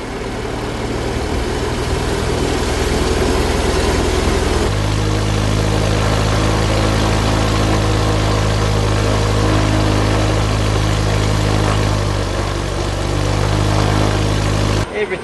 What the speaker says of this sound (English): We're going to run up to 1600 RPM next.